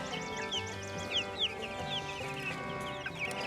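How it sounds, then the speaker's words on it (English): Cornish cross and Buff Orpington chickens out on grass cluck and chirp nearby, a busy overlapping chatter of soft calls with a few higher peeps, no talking. "you can already tell the difference between the Buff Orpingtons and the Cornish crosses"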